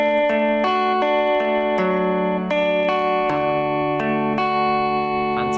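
An electric guitar with effects plays a picked chord arpeggio that includes open strings. Bright notes ring over one another in a steady pattern, loud and close, with no voices.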